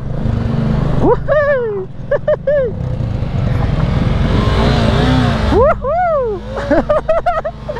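An engine catches and keeps running after being cranked while stranded at a river in General Nakar, a rough steady drone under excited whoops and cheering voices.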